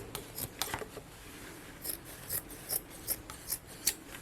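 Scissors snipping through a piece of fabric, a series of soft, close, evenly spaced cuts that grow more regular toward the end, quiet with no talking.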